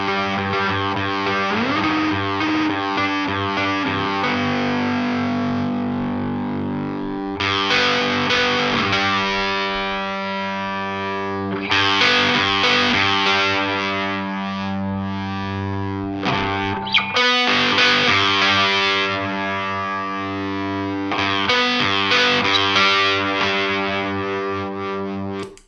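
Electric guitar through a Red Rox distortion pedal with the tone control turned down, giving a thick, saturated, darker sound. Sustained chords ring and shift in loud phrases with brief gaps, and no one speaks.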